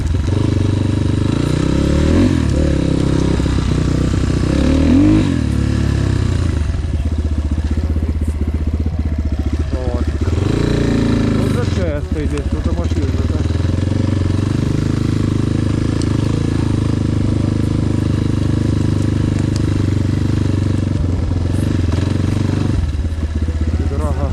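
Enduro motorcycle ridden alone through forest undergrowth, its mid-pitched engine droning steadily and rising in revs at points, with clattering from the bike and some talk over it throughout.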